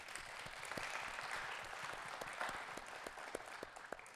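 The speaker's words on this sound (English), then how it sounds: "please give them a round of applause" Applause from a church congregation at a Sunday morning service, a steady patter of many hands clapping that holds for several seconds and then thins out near the end.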